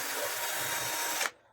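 A cordless drill powered by a repacked battery pack whirs at a steady high speed close by for just over a second, then stops abruptly.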